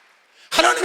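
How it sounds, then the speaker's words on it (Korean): Church congregation breaking into sudden, loud applause during a Wednesday worship service, a dense burst of clapping following a faint murmur. "박수를 하세요."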